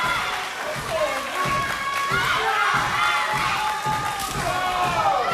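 Wrestling crowd cheering and yelling during a wrestling match, with repeated chants and rhythmic thuds from the ring underneath, loud and close with a commentator talking over it.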